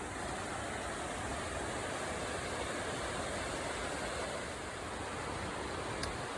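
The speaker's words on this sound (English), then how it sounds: "Not much of a waterfall, but it's making a lot of noise." A constant, dense rush of falling water roars without letup, loud and close, with no voices.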